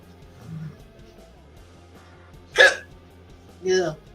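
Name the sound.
hiccups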